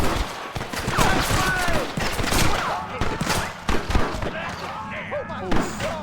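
Rapid gunfire from a Western shootout in the Red Dead Redemption video game, with repeated shots cracking over one another loud and close for the whole stretch while voices shout over the battle.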